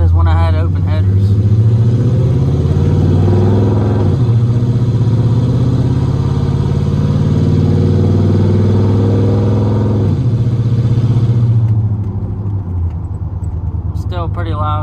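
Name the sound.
loud exhaust drone inside Chevrolet Silverado cab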